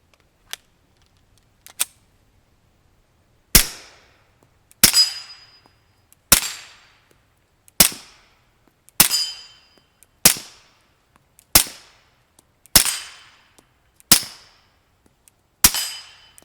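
Suppressed pistol shots fired through a Yankee Hill R9 suppressor fitted with a pistol booster, about ten sharp reports spaced roughly one to two seconds apart, each with a short decaying tail, loud and close with no talking.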